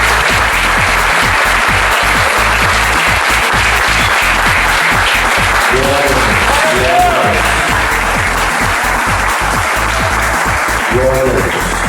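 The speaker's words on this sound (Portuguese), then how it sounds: "eu quero que você desocupe as suas mãos e aplauda ao Senhor" A church congregation applauds the Lord together at a service, steady dense clapping filling the whole stretch, with a few voices calling out over it.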